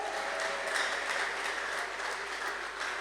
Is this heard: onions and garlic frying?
no